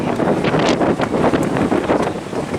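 Strong wind buffets and roars across the microphone on an ocean fishing pier at Cherry Grove, North Myrtle Beach, in a steady loud rush with gusty swells and no talking.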